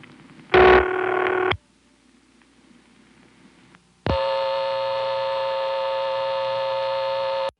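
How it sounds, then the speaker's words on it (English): A telephone line on a Stromberg-Carlson ESC exchange gives a short harsh buzzing tone, falls to near silence with faint clicks, then settles into a loud, steady droning hum from the lockout power supply after the hang-up. "you can tell that by the sound of unbalanced power supply that I suddenly found myself on"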